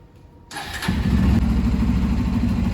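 A car engine cranks and catches, then settles into a steady, loud idle close by with no talk over it, as a learner driver starts up for a lesson in Istanbul.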